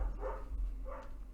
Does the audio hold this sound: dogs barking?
yes